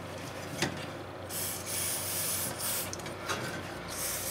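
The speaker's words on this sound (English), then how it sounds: "Got some spray grease. It's handy for those things." Spray grease from an aerosol can applied to a lock nut on a Massey Ferguson lawn tractor deck: a close hissing spray in a few bursts with short pauses, plus faint rubbing.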